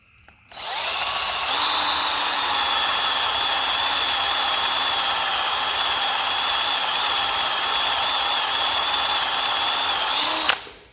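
Power drill running a tapered bit into an engine part during cam and head work on a 283 V8 for a 1940 Chevy coupe, a loud steady whine starting abruptly, holding for about ten seconds, then stopping.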